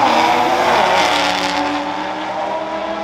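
An Audi RS3 accelerates at a large euro car show, a loud close engine roar that holds steady and then eases slightly as the car pulls away.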